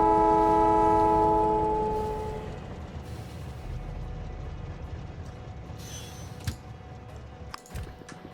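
A Factorio game train sounds a long tonal horn that fades after about two seconds, then rolls on with a low rumble and mechanical clatter, ending with a few sharp clanks.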